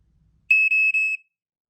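A home smoke alarm with a low battery gives one loud, high, piercing electronic beep that lasts under a second, with a couple of tiny dips. Silence comes before and after it.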